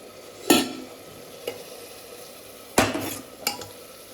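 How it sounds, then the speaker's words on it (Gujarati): Food is stirred in a pan in a home kitchen, with a few loud spoon scrapes and clanks against the metal at uneven intervals over a low background sizzle. "હવે આપણે હલાવીશું."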